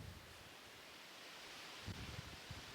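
Sea waves surge on the Crimean coast near Gaspra on a windy February day, a steady broadband wash of surf mixed with gusty wind noise, with a few low swells rising toward the end and no talk.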